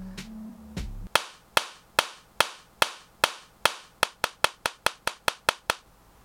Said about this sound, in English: I didn't do the clap thing.